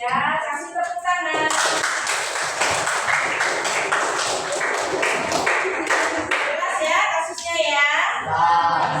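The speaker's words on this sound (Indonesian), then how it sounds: "Ya, kasih tepuk tangan." A classroom audience in an Indonesian junior high school claps after a group presentation. The dense clapping lasts several seconds in the middle, with voices speaking before and after it.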